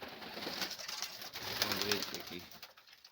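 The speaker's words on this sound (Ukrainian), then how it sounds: "Ось голуби такі" Domestic flying pigeons coo softly and repeatedly close by, with rustling and faint background noise throughout.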